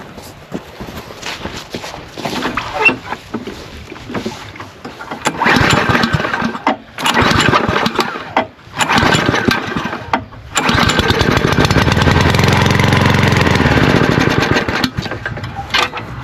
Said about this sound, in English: So old school method how to start lawnmower after winter.